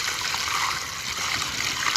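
Water flowing out of the ground, a steady close hiss and trickle, continuous with no pauses.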